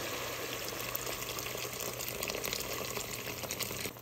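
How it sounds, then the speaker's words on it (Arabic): Boiling water poured into a pot of vegetable soup, a steady close rushing and hissing pour lasting the whole stretch without letup. "هلا بلشت الخضرة تبدا لنا، رح نضيف المي المغلية."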